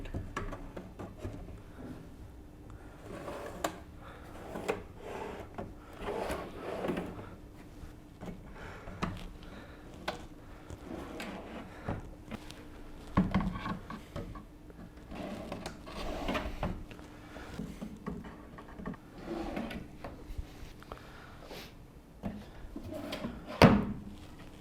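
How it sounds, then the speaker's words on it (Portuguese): Wooden drawers slid and pushed onto freshly installed side rails in a cabinet, giving repeated knocks, scrapes and soft clunks of wood on metal runners, with a few sharper bumps near the end, fairly close and without talk. "Agora que estão todos os trilhos colocados dos dois lados, é só a gente encaixar as gavetas."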